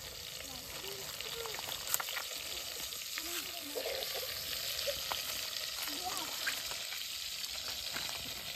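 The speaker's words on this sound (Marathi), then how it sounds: "आता लसूणची फोडणी दिली आईने." Garlic tempering hisses and sizzles steadily in oil, cooked outdoors by a river, with faint scattered clinks and quiet voices in the background.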